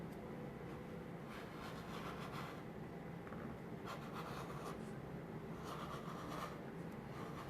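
A rotary cutter slices through quilt fabric on a cutting mat, giving a continuous close, soft scraping rasp that swells in a few longer strokes, with no voices over it.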